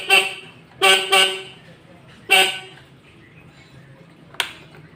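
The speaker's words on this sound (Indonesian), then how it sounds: "Klakson nyala." Horn of a Suzuki RC100 motorcycle honking several short beeps, two close together then another, loud and close with a sharp click afterward and a faint hum underneath.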